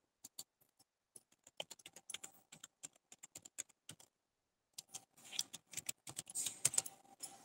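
Quiet, close clicks of someone typing a password on a computer keyboard, irregular keystrokes in short bursts with a brief pause before a faster flurry of taps.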